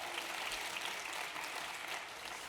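An audience at a Manhattan borough president's State of the Borough address claps in a sustained burst of applause, dense crowd clapping at steady volume that tapers only slightly toward the end.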